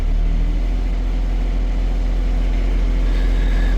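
A Chinese mini excavator's engine idles with a steady low rumble, throttle raised slightly, the drone constant and close with no talk over it.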